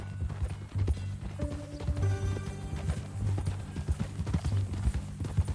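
Horse hooves clip-clopping steadily on a ranch, a rhythmic walking beat close by, with a brief whinny-like tone and some background music or ambience underneath.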